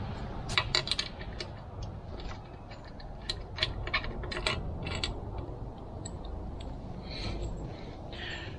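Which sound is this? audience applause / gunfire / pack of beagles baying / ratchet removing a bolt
ratchet removing a bolt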